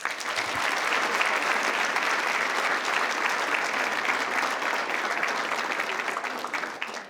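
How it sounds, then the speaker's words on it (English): Sustained applause from an audience at a county school board meeting honoring students, steady and fairly loud for about seven seconds and fading slightly near the end. "Round of applause to all of you."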